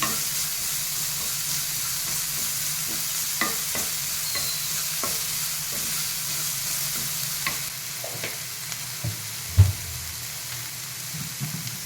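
Ground ginger, curry leaf and green chilli paste frying in a pan, a steady close sizzle with light scattered stirring taps and one louder clunk near the end, no talking.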